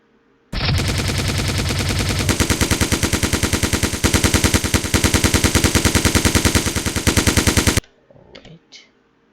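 Rapid automatic gunfire from NPCs in an Unreal Engine third-person shooter game, a loud continuous burst lasting about seven seconds that turns into sharper distinct shots partway through, then cuts off abruptly, leaving faint clicks.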